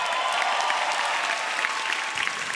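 Applause rises from the audience at a stand-up comedy show, a dense, even wash of clapping that continues without pause for a couple of seconds.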